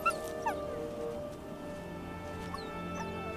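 Young wolf pups whimpering and yipping, giving a few faint, high whines and squeaks in short bursts over quiet natural background.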